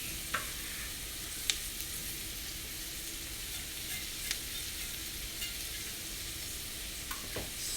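Leafy greens for colcannon fry in a hot pan with a steady, close sizzle, broken by a few sharp clicks and scrapes as they are stirred; no one speaks.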